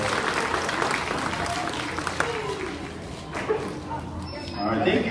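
An audience of young children and families claps at a school awards assembly for grades TK through 2, a steady wash of applause with voices and chatter mixed in throughout.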